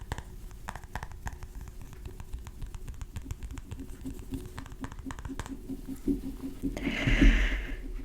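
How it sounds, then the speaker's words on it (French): Rain patters steadily outdoors, a soft, dense crackling texture that runs throughout at moderate distance, with a low steady hum underneath and a brief louder rustle near the end. "Il pleut actuellement chez moi"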